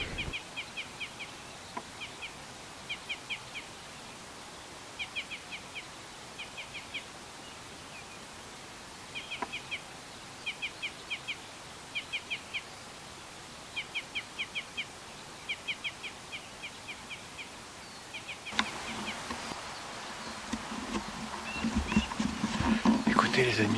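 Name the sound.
black grouse song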